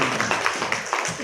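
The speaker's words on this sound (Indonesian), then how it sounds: "Tepuk tangan untuk ibu ketua." A room of people in a women's association gathering gives a short burst of close, dense hand clapping.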